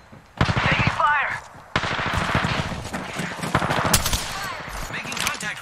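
Enemy gunfire in Apex Legends, rapid bursts of shots in two close volleys with ricochet-like whines, loud and near, with a voice speaking over it.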